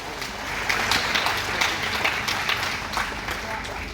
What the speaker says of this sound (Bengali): ওনার জন্য একটা জোরে হাততালি হোক